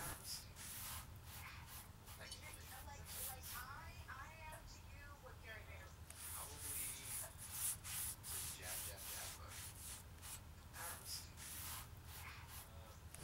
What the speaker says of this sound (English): Here I'm using a wiping varnish, General Finishes Armor Seal.